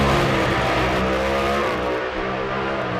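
A Pro Mod drag race car in qualifying roars at full throttle down the track, a loud, harsh, continuous engine blast with dense rumbling harmonics that eases slightly near the end.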